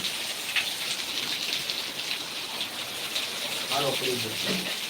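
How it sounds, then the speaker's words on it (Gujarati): Heavy rain with strong wind falls in the village of Khadvavdi. A dense, continuous downpour hisses close by, with a brief voice near the end. "મિત્રો ખડવાવડી ગામમાં વરસાદ અત્યારે ચાલુ છે"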